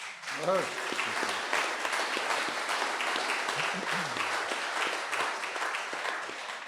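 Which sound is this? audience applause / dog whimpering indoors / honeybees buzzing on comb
audience applause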